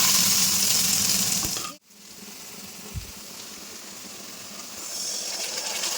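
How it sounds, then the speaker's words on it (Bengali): Onions frying in mustard oil in a home kitchen, a steady broadband sizzle that drops out sharply for a moment, then resumes more softly and continues alone. "পেঁয়াজটাকে আমি খুব ভালো করে ভাজবো।"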